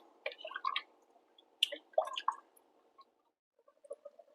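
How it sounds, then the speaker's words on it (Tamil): Salted water comes to a boil in a pot for Ambur seeraga samba mutton biryani, heard as faint, scattered bubbling pops and drips in small bursts separated by near-silence. "தண்ணி நல்லா கொதிக்க ஆரம்பிச்சிடுச்சு."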